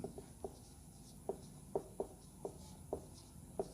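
Writing on a board during a math lesson: a series of quiet, separate tapping and scratching strokes at an irregular rhythm, close by with no talk.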